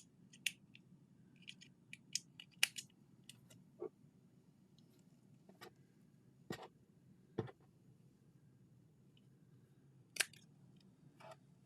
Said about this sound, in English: Oh, these scissors suck.